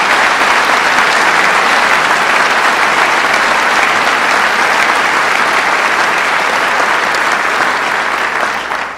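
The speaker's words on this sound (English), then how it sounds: "Let's give them a round of applause." Loud, sustained applause from a large crowd at a ceremony recognizing a cancer institute, continuous dense clapping that stays strong throughout and only tapers at the very end.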